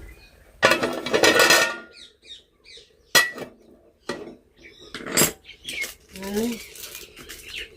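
A pot lid clatters onto a pot while Maggi noodles cook, giving a few sharp metallic clinks and knocks spread over several seconds, with kitchen rustling and someone speaking between them.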